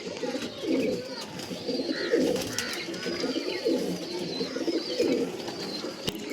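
Several Punjabi and Malbai pigeons coo in low, throaty, repeating phrases nearby, overlapping one another against a faint background hum.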